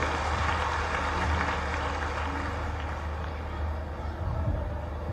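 An audience at a tribal student felicitation ceremony in Khandwa applauds to welcome Chief Minister Mohan Yadav, a broad, steady wash of clapping from a large gathering that holds at an even level throughout.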